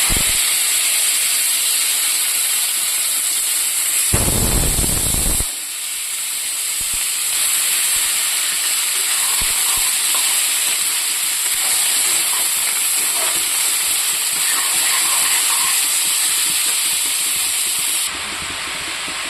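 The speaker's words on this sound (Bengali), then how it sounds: "এটা আধা ভাজা হয়ে গেছে।" Turnip frying in a pan, a steady loud hiss and sizzle with a brief burst of louder crackling near the start.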